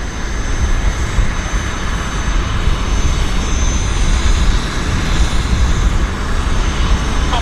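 Airliner taking off at Vancouver airport, a loud, continuous jet engine roar that holds steady throughout with no talk over it.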